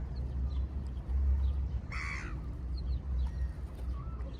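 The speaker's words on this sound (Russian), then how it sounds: "Чайки на утку нападают." A single harsh gull call rings out once over steady low outdoor rumble, fairly close; the gulls are attacking a duck.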